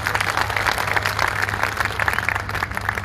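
Audience applause fills a hall at a Hindi poetry recital, with steady dense clapping close and loud for a few seconds.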